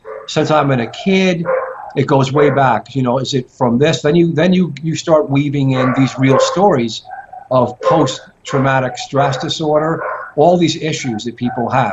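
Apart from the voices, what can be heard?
poodles barking in the background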